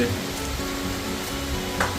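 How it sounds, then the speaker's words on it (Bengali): Steady rain falls outdoors as a constant hiss and patter, with a low hum running underneath and a faint voice briefly heard. "বৃষ্টি শুরু হয়ে গেছে বৃষ্টি থামছে না"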